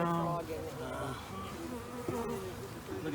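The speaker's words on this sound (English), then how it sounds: "See how frenetic the bees are getting?" Agitated honey bees swarm and buzz around an opened hive, a dense, continuous droning hum close by, rising and falling slightly in pitch with no talk over it.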